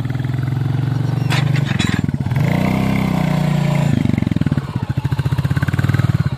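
A Royal Enfield motorcycle engine revs hard and labours while dragging two harrows tied by rope, rising and falling in loud, close bursts with a steady thumping throb.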